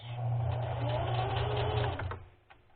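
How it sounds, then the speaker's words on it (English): A sewing machine stitches ribbon trim onto tutu socks, running in a steady close whir for about two seconds before reversing briefly to back stitch, then stopping. "start sewing, and then back stitch"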